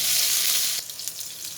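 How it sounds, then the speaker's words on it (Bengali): Continuous close sizzling of chopped tomato frying in a pan, loud at first and then settling into a softer crackle. "টমেটোটা ভাজা হচ্ছে"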